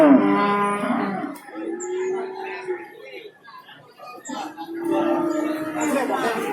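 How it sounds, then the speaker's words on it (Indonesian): Cattle moo loudly at a cattle market in Babat, Lamongan, East Java, with a long low bellow near the start and another toward the end, over murmuring voices and market bustle. "Nah ini masih banyak sapi"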